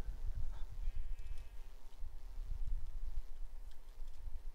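Sheep bleat in a blocky sandbox video game, a couple of short faint bleats over a rumbling background of game noise and movement.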